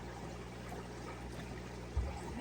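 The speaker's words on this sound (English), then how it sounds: "Make sure all these guys are dunked in there. And a nice rinse." House plant roots dunked and rinsed in a container of water, giving a soft, steady wash of sloshing water with a brief low splash near the end.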